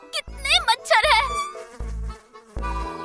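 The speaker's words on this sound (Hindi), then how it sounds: "देखिए यहाँ कितने मच्छर हैं" Mosquitoes buzz in a Hindi cartoon with a thin, high whine that comes in several short, separate bursts, alongside a brief voice.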